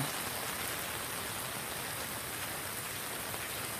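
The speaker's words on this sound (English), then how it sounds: "I've never seen so much rain" Heavy rain pours down steadily, a dense, constant hiss of drops hammering surfaces close by, with no voices.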